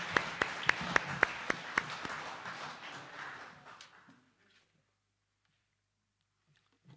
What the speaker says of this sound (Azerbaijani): Alqışlayaq.